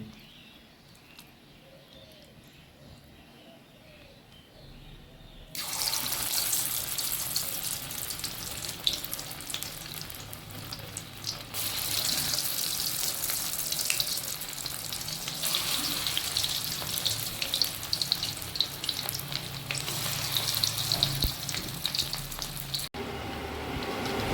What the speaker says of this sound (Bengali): এখন আমি অল্প অল্প দিব আর ভাজবো কড়াইতে